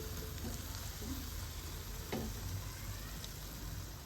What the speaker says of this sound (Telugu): ఇలా మంచిగా ఫ్రై అయిపోయినాయి